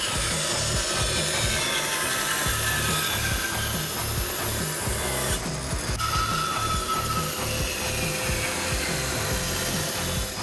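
Hand saw cutting wooden pieces for a hedgehog table in a woodworking shop: a continuous, close rhythm of rasping back-and-forth strokes with a brief pause midway before sawing resumes.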